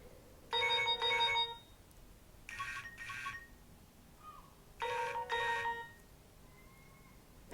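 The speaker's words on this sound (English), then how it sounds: "Any of you like the idea of having that as your ringtone now?" Retro Nokia mobile phone ringtone playing three short, bright electronic ringing bursts with gaps between them, clear and close in a quiet room, with no speech.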